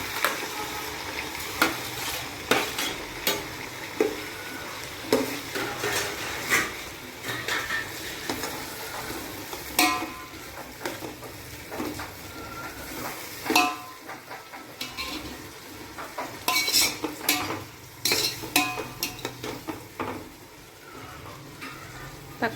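Five sliced tomatoes fry in a pan for a village-style chicken gravy, with a soft sizzle under repeated clinks and scrapes of a spoon against the metal pan, in irregular bursts of stirring throughout and no talking.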